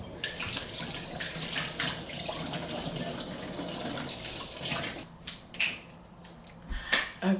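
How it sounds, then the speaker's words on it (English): Tap water runs steadily from a faucet as hands are washed at a sink, a continuous broadband splashing that breaks into short bursts and drips near the end. "I'm gonna wash my hands"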